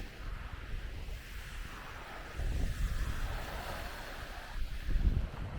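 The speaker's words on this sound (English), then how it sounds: "there's water running there now" Water draining out of a pond along a walking path outdoors, a steady rushing wash that swells louder in places, mixed with gusty wind noise on the microphone.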